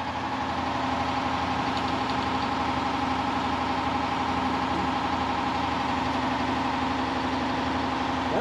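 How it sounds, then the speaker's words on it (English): A sand dredge auger churns underwater, giving a steady, muffled low engine-like drone with a constant vibrating hum throughout, close and unbroken. "That's your auger."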